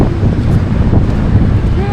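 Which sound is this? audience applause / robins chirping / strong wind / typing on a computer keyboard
strong wind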